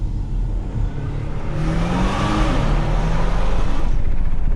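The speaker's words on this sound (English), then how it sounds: "You get a nice V6 sound, but please go for that sports exhaust when it's available." A Porsche V6 with a quick-shifting PDK gearbox accelerates hard, its engine note building steadily and loudly into a rising whir, heard from inside the car with no one speaking.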